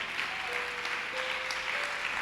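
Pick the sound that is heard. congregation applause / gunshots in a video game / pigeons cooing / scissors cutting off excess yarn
congregation applause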